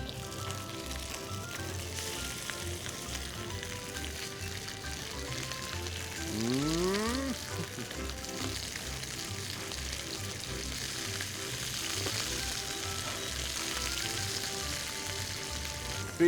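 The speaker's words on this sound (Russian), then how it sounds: "горячая, очень горячая, оливковое масло, берем наши бомбеты или бомбеты и прямо, прямо вот так" Pork bombette rolls fry in very hot olive oil in a skillet, giving a steady, close, broadband sizzle that runs the whole time, with a brief shifting crackle midway and no talking.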